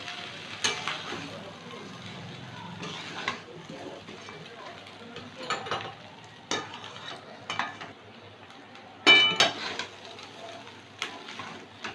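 Fish head frying in a pan of oil for a Bengali muri ghonto, a steady low sizzle broken by occasional sharp clinks from stirring, with a voice speaking over it.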